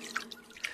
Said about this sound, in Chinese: 净房中传来水声